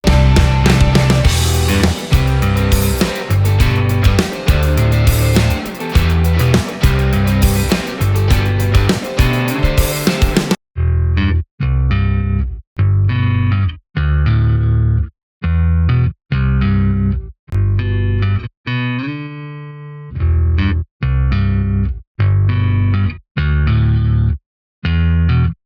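Bass guitar driven through the Alkane saturation plugin, first buried in a dense full-band mix, then heard alone as punchy, gritty repeated notes with short gaps.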